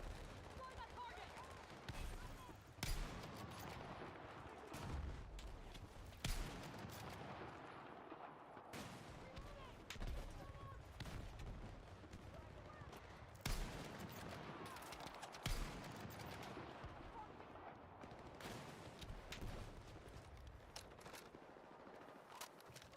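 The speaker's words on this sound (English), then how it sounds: "machine gun" Machine guns fire in Battlefield 6, long stretches of dense, rattling bursts with sharp individual cracks under continuous battle noise and occasional radio voices.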